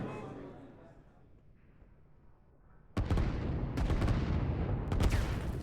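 Gunfire and artillery in the strategy video game Line War, a distant rumble of firing at first, then louder continuous bursts and blasts under a commentator's voice.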